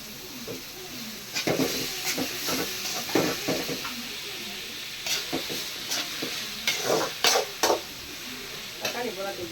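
Tomatoes and curry leaves sauté in a hot pan for a Tamil vada curry, a constant sizzle under repeated close scraping strokes of a spoon stirring against the metal, growing busier in the second half.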